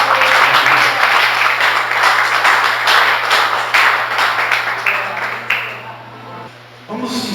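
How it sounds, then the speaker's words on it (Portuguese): A church congregation applauds during a service, steady dense clapping from many hands that holds for several seconds before thinning out, with a low hum underneath. "Você pode dar um aplauso ao Senhor Jesus?"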